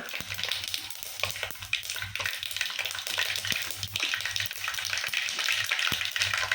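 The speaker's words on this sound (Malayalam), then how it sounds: "ഇതിലോട്ട് നമുക്ക് കുറച്ച് കടുക് പൊട്ടിക്കാം" Mustard seeds crackle and pop in hot oil, a dense run of sharp little spatters over a steady sizzle, fairly close.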